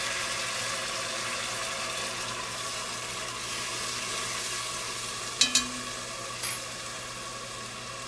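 Chopped onion frying in a pan with a can of Rotel tomatoes and peppers just added, a steady faint sizzle and hiss with a couple of brief clinks near the end.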